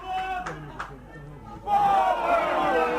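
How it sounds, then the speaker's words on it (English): Rugby league crowd at Oldham v Toulouse Olympique swells into a loud collective shout in the second half, following a few scattered calls and commentary-like voices. "The crowd shout forward"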